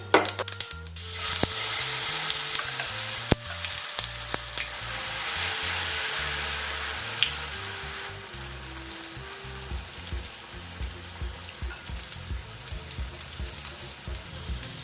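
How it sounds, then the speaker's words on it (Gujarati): Handvo batter hits hot oil tempered with mustard seeds, white sesame, curry leaves and hing, and gives a loud, dense, rain-like sizzle that holds steady for about fifteen seconds, with occasional faint clicks and no voices. "હાંડવાનું બેટર એડ કરીશું"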